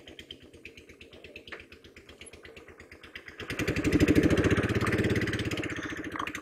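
A Royal Enfield Classic motorcycle idles with a close, even thumping putter, then the revs swell into a louder, fuller roar that slowly eases back down.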